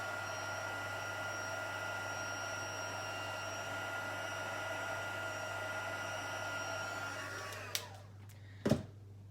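A heat embossing gun blows hot air in a steady, continuous whoosh at close range during paper crafting, running alone and cutting off near the end with a couple of short clicks or bumps.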